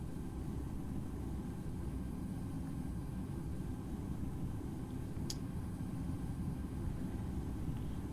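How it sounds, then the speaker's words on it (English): Boeing 777 jet engines at takeoff in the Infinite Flight game, a steady low roaring rumble with constant broadband noise, fairly faint and unchanging throughout, with one brief click midway. "We're going to do a 777 takeoff."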